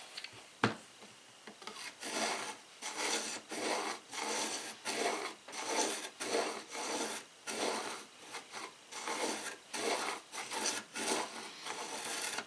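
A knife edge is drawn through a knife sharpener in a steady series of close, gritty grinding strokes, about a dozen evenly spaced passes after a single sharp knock at the start.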